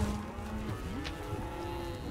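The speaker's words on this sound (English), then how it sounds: "That bull's menacing me." A massive, stubborn bull lows near the road in the Australian outback, giving a long, loud, drawn-out moo that wavers in pitch over a low background rumble.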